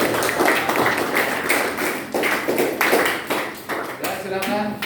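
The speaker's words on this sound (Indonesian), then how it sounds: "beri aplaus semuanya" A classroom of students at an Islamic junior high school gives a round of applause, a steady patter of many hands clapping close by for several seconds, with voices mixed in.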